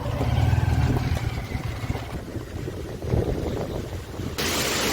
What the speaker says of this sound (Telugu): చూడండి ఫ్రెండ్స్ నీళ్ళు ఎలా ఫ్లో అవుతున్నాయో డ్యామ్ నుండి